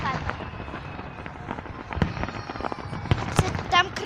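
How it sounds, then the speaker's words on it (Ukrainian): Small consumer firework cake, the weakest of the set, launching shots outdoors: repeated sharp pops and crackles in an irregular sequence at moderate distance, with voices talking over them and a few louder bursts near the end. "Самая слабая пушка запускает."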